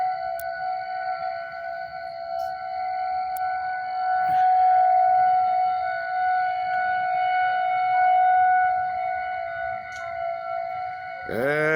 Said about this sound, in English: You're hearing it, the siren alert at nighttime.